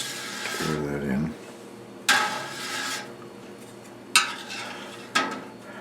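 Calcium chloride stirred into four gallons of milk in a large pot for chili pepper gouda, with scraping stirs and sharp metallic clinks against the pot at intervals and a brief low hum near the start.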